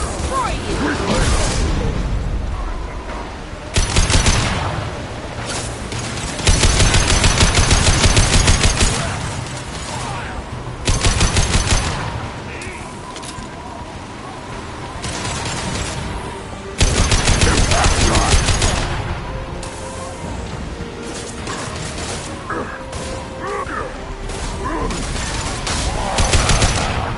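Gunfire in the Mass Effect Legendary Edition video game, with dense bursts of shots repeating through the scene over a loud mix of effects and speech.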